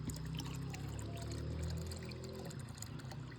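Clear unchlorinated spring water pours steadily into a water tank, a continuous close splashing rush with a faint low hum underneath and no pauses.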